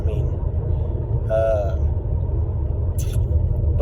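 A Kia Stinger's turbo engine runs at a steady idle, with a low, constant rumble close to the car and a faint higher whine rising briefly in the middle.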